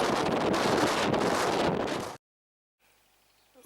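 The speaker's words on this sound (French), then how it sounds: "Aujourd'hui, le vent est de fesses et non pas de face." Loud wind buffets the microphone in a steady roar on a road ride through Patagonia, then cuts to near silence before a faint rustle returns at the end.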